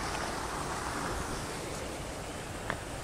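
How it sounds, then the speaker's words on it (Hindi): Drain water flows beneath grass and piled rubbish in a park, a steady broadband rushing wash that holds even throughout, moderately loud with no voices. "इसके नीचे पानी बह रहा है नाले का"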